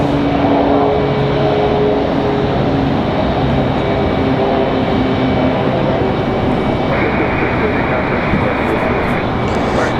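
Airliner taking off from Raleigh Durham airport, a loud steady jet engine roar that fills the whole clip, with a distant thin tone joining near the end.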